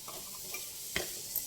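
Thinly sliced capsicum being stir-fried for semiya pulao sizzles softly and steadily in the pan, broken by a couple of brief spatula scrapes and taps.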